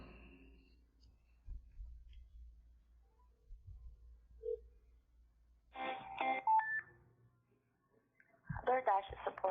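Telephone keypad dialing to call a food-delivery support line back, short bursts of tones and beeps in two clusters near the end, following low hum and quiet background noise.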